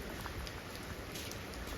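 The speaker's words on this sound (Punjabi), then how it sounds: "ਮੀਂਹ ਵੀ ਪੂਰਾ ਜ਼ੋਰ ਤੇ ਆ" Heavy rain pours down on a village, a constant dense hiss of drops on surfaces, faint and unbroken throughout with no voices.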